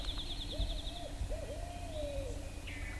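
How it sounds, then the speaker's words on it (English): A wild owl hoots in the woods during a turkey hunt. Two or three soft, distant hoots sound against quiet outdoor ambience, with a faint bird call above them. "That was a real owl answered me."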